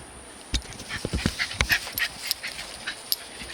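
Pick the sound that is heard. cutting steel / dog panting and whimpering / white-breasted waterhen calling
dog panting and whimpering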